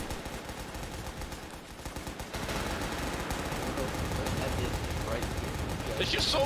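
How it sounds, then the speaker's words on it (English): Heavy gunfire in the Forts multiplayer video game, including M16 weapons: a constant crackling barrage of overlapping shots that grows louder partway through and keeps going to the end. "There's just so many bullet fire."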